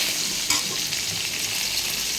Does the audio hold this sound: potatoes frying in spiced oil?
yes